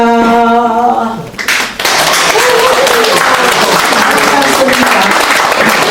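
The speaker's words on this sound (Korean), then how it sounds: "다시 한번 큰 박수로." After a sustained sung tone ends, an audience bursts into loud applause following a pansori performance at a civic movement founding event; dense, close clapping continues steadily, with a voice calling out briefly among it.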